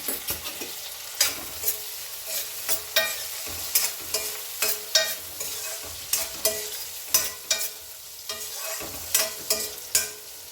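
Cumin seeds fry in a pan for a tomato and coriander chutney, with soft sizzling under repeated sharp scraping stirs of a spoon against the pan, fairly faint and with no talking.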